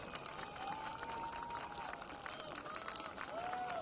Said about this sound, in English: Let's give all these outstanding student athletes, coaches, and staff another round of applause